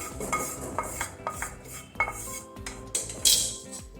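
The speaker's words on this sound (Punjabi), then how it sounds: "ਵੇਸਣ ਨੂੰ ਆਪਾਂ ਪਲੇਟ 'ਚ ਕੱਢ ਲੈਂਦੇ ਹਾਂ" Metal spoon scraping roasted gram flour (besan) from a pan onto a plate in a home kitchen, a run of close, sharp clinks and scrapes in irregular bursts, with a brighter clatter near the end and no talking.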